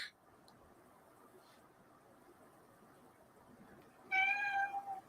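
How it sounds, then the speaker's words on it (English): A house cat meows near the end, a clear harmonic call rising above a low steady background hiss after several seconds of near quiet. "That's my wife's cat. If you guys hear that meowing."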